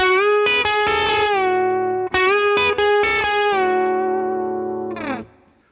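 Electric guitar playing a pedal steel style lick, a note bent up a whole step and released among sustained harmonized notes, with a mildly overdriven, effects-laden tone, played alone and ringing out at the end.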